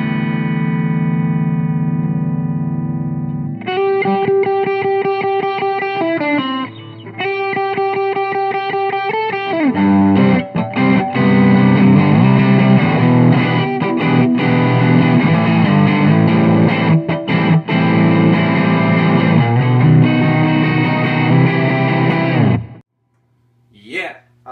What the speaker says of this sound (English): This is what I use as my main distortion right now.